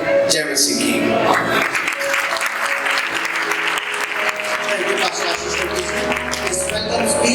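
Loud, sustained clapping from a church congregation at a Sunday service, filling the whole stretch evenly, with a faint voice and some tonal sounds underneath.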